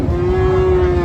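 A single long, steady moo from a Friesian or crossbred bull calf at a crowded cattle market, loud and close, held for over a second over a dense background of market noise.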